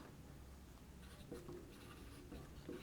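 A pen scratches faintly across paper while prime factors are written out, soft irregular strokes heard close against a quiet background.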